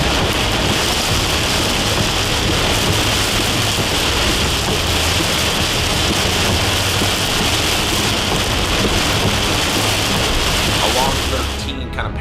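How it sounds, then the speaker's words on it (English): Heavy rain and wind from a nighttime tornadic storm that produced a large EF-4 tornado, a loud, steady roaring downpour with gusting wind throughout. Speech is present over the storm noise. "some very, very strong winds and rain came with it"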